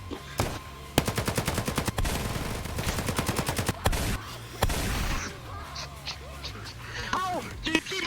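Gunfire in a GTA roleplay game: rapid automatic bursts crack out in fast, evenly spaced trains, then scattered single shots follow, loud and close, with voices and other game noise around them.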